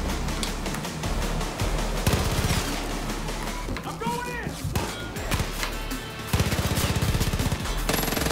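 Sustained bursts of automatic gunfire from a long-range firefight in Far Cry New Dawn, loud and nearly continuous with rapid rattling volleys and scattered impacts, with a voice speaking briefly in the mix.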